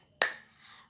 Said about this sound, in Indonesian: Buka tutup dan tepuk tangan.